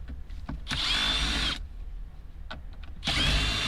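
Power screwdriver backing out Phillips screws from the side of a 2002-2006 Honda CR-V car radio at a scrapyard, two whirring bursts of about a second each with small clicks between, close up, no speech.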